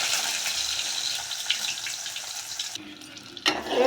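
Onion and garlic fry in hot mustard oil for taro-leaf curry, a dense crackling sizzle that holds steady for nearly three seconds before cutting off abruptly, followed by brief clattering.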